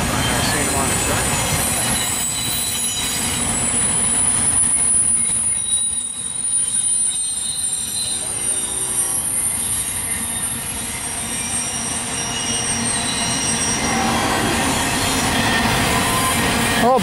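A freight train pulled by a single engine rolls past, a loud continuous rumble of wheels with squealing and rhythmic clatter from the railcars, sustained and close throughout.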